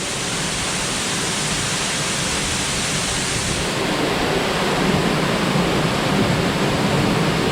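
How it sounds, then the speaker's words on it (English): A waterfall heard from behind the falls roars as a steady, loud, broadband rush of pounding water, continuous and unbroken with no voices over it. "Here we are behind the falls."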